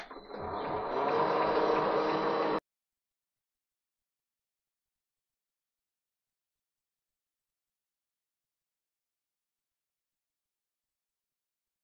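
A threading die cuts a thread on a workpiece held in a Colchester Student lathe with tailstock support. A close, grinding mechanical churn lasts about two and a half seconds, then stops abruptly into silence.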